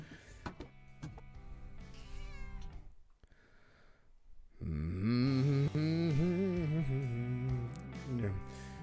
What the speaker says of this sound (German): womit wir diese scheiß Katze loswerden können